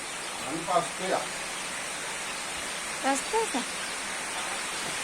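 Dense, steady roar of heavy rain, with a couple of short voices breaking through it.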